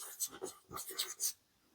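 A fading marker scratches and squeaks on a board in a short series of strokes during a physics lecture, quiet and close, with soft speech faintly underneath.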